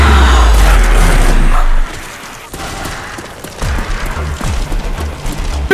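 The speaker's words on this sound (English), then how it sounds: "Big explosion! Big success!" A loud boom from a video game explosion bursts at the start, then fades into lower rumbling and scattered game noise.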